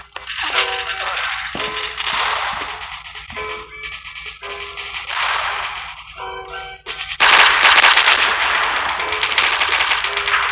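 A VSS rifle fired from the hip in the mobile shooter Coalition, rapid rattling bursts of shots in several strings separated by short pauses, with a voice talking over parts of it.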